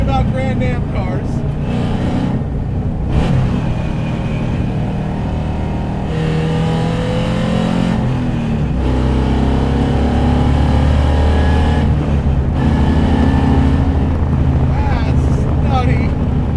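A 515 hp LS V8 in a 1988 Mitsubishi Starion roars and revs hard, rising and shifting through gears, with heavy wind rush buffeting the microphone throughout.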